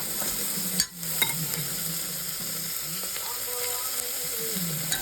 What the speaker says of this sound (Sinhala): මම ලුණු විතර අත ගාලා තියාගත්ත වැටකුළු ටික දානවා